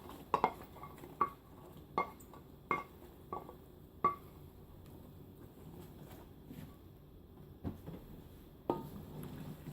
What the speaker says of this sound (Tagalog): Haluing maigi para maluto ang Baguio beans.